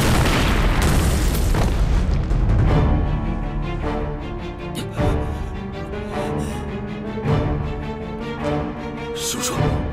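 A mountain gun fires and its shell explodes in a Chinese war film battle against Japanese aircraft and tanks, a loud deep boom at the start followed by further rumbling blasts under a swelling musical score.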